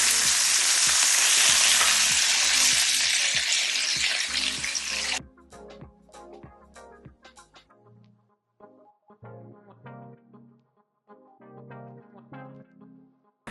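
Bacon fries in a pan, a loud, dense crackling sizzle for the first few seconds that then cuts off abruptly, leaving scattered pops, spatters and light clinks at a lower level.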